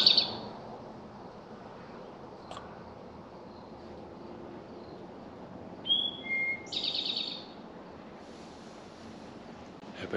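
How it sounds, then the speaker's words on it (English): An evening songbird at a lakeside campsite by Summersville Lake, West Virginia, gives a few clear, thin whistled calls and a short trilling phrase, fairly faint over steady soft wind and background hush, with no one talking. "Have a nice little bird song going on over here. Little evening bird calling."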